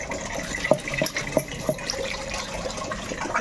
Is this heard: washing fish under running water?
yes